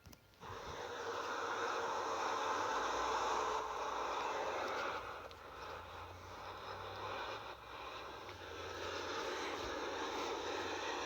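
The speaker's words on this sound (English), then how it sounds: "This plane is this 787 is doing a low pass, doing a very low pass." Boeing 787 airliner making a very low pass overhead, a loud broad roar of jet engines that swells, holds and slowly eases over several seconds.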